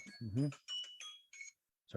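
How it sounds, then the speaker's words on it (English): A phone alarm sounds with steady high electronic tones ringing under a person talking, then briefly alone before the talk resumes. "that's my alarm"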